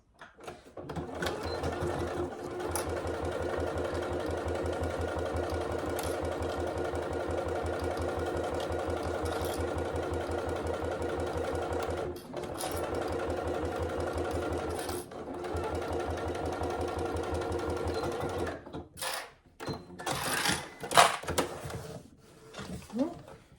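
A sewing machine runs steadily at a quarter-inch seam allowance along a wash bag seam, a loud continuous whirring drive broken by a few brief pauses, then stopping with short clunks and handling noises near the end.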